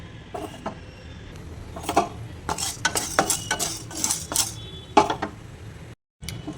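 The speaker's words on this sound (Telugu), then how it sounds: "ప్యాన్ హీట్ అయ్యాక దాంట్లో 1 స్పూన్ శనగపప్పు యాడ్ చేయాలి. ఇవన్నీ డ్రై రోస్ట్ చేయాలండి." Chana dal is dry-roasted in a heated pan, with bursts of scraping and clinking as a spoon stirs the lentils against the metal. The strokes are uneven and close, over a faint background hiss, with a brief dropout near the end.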